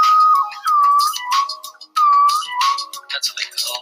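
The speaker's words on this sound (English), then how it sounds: "That's what they call a baseline whistle" A whistle blows in a few short, clear tweets with gentle pitch bends, loud and close, with no talk.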